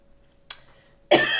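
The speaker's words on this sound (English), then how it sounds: "Talking makes me cough." A single adult cough, sharp and close, followed by a louder harsher second burst in an otherwise quiet room.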